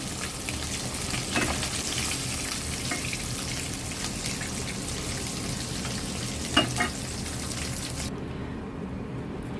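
Hilsa fish fry in hot oil in a pan, a constant close sizzle with a few utensil knocks, and the high frying crackle drops away near the end.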